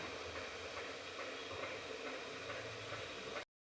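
Steady loud hiss of water boiling and steaming beneath a covered plate of pitha dumplings in a pot, continuous and close, cutting off abruptly.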